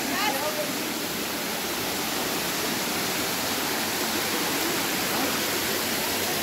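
Steady, full-band roar of the Garganta do Diabo underground waterfall, water pouring continuously inside a cool cave, close and loud throughout with no letup.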